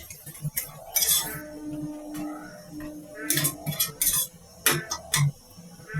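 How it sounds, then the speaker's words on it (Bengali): A spice paste is stirred and fried in a pan while a utensil scrapes and clinks against the metal in irregular bursts over a low sizzle, close and fairly quiet, with no one talking. "মশলার পেস্টটা আমি এর মধ্যে দিয়ে দিলাম এবং ভালো করে কষিয়ে নেব"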